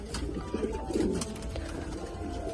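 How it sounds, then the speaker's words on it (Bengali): Racing pigeons cooing softly in low, throaty rolling calls close by, over a steady background hum. "আমি ফয়সাল বাই থেকে প্রায় চার পেয়ার মতো কবুতর কালেক্ট করি"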